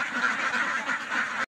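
Domestic ducks quack steadily in a new enclosure, a dense overlapping chorus of nasal calls close by with no pauses, and no talking over it.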